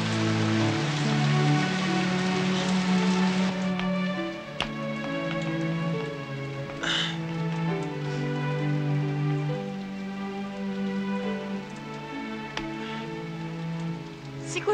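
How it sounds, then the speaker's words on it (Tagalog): Heavy rain drums steadily and loudly on a surface throughout, a dense continuous wash with no voices, set against sustained musical tones underneath. "lumalakas na yung ulan"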